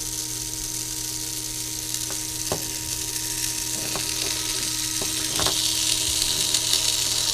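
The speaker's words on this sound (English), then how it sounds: "And now if I push my button, the motor should turn on." A VEX Cortex robot motor switches on, a steady electric whine and hum with a few faint clicks, building slightly louder toward the end with no talking.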